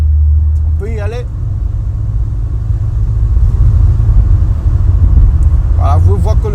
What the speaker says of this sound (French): vous voyez que le bruit de la voiture,